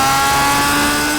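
A 25-year-old Honda car's engine is held at full throttle in fourth gear on a dyno, producing a loud, steady, high-pitched roar across a brief moment, with no voice heard.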